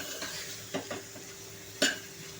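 Spices fry in oil in a pan for a chana dal and ridge gourd sabji, giving a low steady sizzle, broken by a few close scrapes and clinks as a spoon stirs them.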